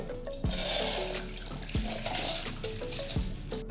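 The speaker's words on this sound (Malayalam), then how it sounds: "ഇനി ഇത് വെള്ളം ഡ്രെയിൻ ചെയ്ത് വെക്കുക" Water pours and splashes close by as it is drained from soaked rice, a running trickle with a few sharp knocks of a container being handled.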